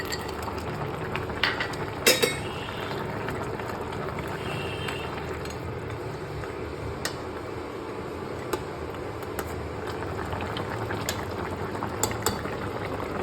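A Bengali fish curry with potato, eggplant, bori and green chillies simmers in a pot, giving a steady bubbling hiss with occasional faint clinks.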